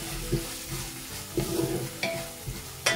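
Curry leaves fry in hot oil in a pan of tomato rice, a close sizzle broken by several stirring scrapes and clicks in a short burst, with no speech.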